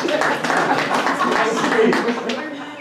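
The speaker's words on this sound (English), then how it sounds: "Give it a hand or a round of applause." Audience at a talk in Halifax clapping; a steady, moderately loud round of applause mixed with crowd voices, lasting a few seconds.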